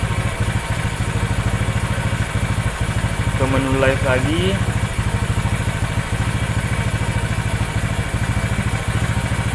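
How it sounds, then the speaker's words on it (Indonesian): A Honda Vario scooter engine idles with a steady low, rapid pulsing throughout, close and loud, while a person speaks briefly over it partway through. "Motor masih dalam kondisi hidup."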